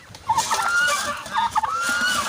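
A brown Dekalb hen clucking loudly and repeatedly near goslings, close-up harsh squawking calls in uneven bursts with faint background chatter.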